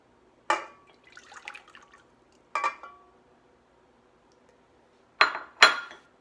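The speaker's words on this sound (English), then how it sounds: "we will combine our melted butter" Melted butter poured into a mixing bowl while making chocolate chip cookies, heard as a few brief liquid splashes and clinks against the bowl, spaced apart and fairly close, with no talking.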